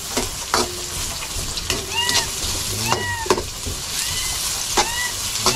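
Onions and green chili frying in a pan, a steady close sizzle with soft stirring clatter and a few brief utensil clinks over a constant hiss.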